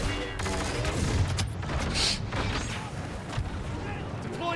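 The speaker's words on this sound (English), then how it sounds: "Under heavy fire at the west exit." Dense, continuous heavy gunfire and explosions in an Xbox One video game, a loud rumbling barrage with voices heard under the combat.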